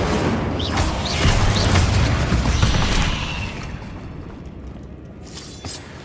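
A fire spell cast in the Hogwarts Legacy video game, a loud, whooshing burst with crackling and shattering debris that lasts a few seconds, then fades into a quieter rumble.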